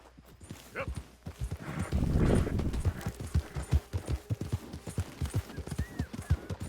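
Horse hooves clip-clop in a steady run of loud, close beats in Red Dead Redemption 2, with a denser rush of hoofbeats partway through.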